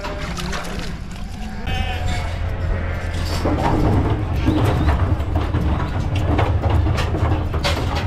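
Sheep bleat repeatedly over a steady low engine rumble on an Australian farm, with a person talking intermittently in the background.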